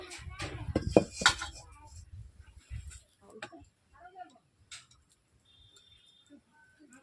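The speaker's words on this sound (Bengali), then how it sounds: "উনুন জ্বালিয়ে ফেলেছি কড়াই বসিয়ে দিচ্ছি" A karahi wok is set onto a lit clay stove, ready for frying katla fish: a couple of loud metallic clanks near the start, then softer scattered clinks fading into quiet.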